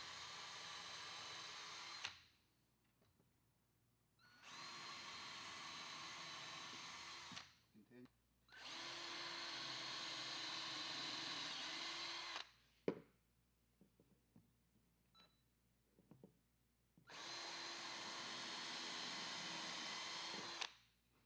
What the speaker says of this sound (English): Using a 1/8 inch drill bit, drill 5 1/8 inch pilot holes 1 1/4 inch deep through the inner wood bed frame